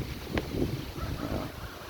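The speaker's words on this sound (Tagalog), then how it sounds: "Ayan, lakas ng hangin dito guys, oh." Strong wind buffeting the microphone in low rumbling gusts, with faint rustling in the background and no speech.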